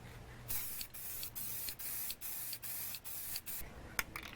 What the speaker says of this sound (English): so now I'm going to spray the second coat.